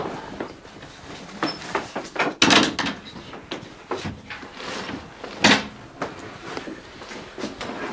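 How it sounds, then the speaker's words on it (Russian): A door on a simple hinge swings shut with several close wooden knocks and creaks spread over a few seconds, the loudest clunk coming near the middle, with no talking. "Видите, можно так закрыть дверь, вот видите сюда."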